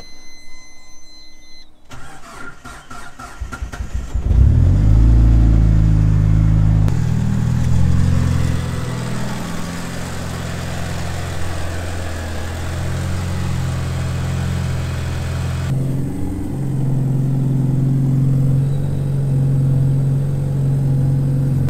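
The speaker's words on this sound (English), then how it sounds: "I'll show you how nicely this thing starts up now." A rebuilt 600+ hp Mitsubishi Evo 5 engine cranks briefly and fires up after a few seconds, then settles into a steady, smooth low idle that continues to the end, heard alone and close.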